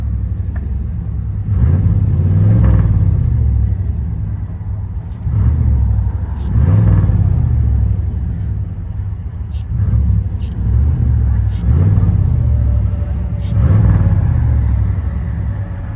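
Heard from inside the cab, a 1991 GMC Sierra extended cab with a 5.7L V8 and Flowmaster Outlaw exhaust, 2 1/4 inch pipe and 3.5 inch rolled tip, rumbles through about six rising revs separated by lower idle.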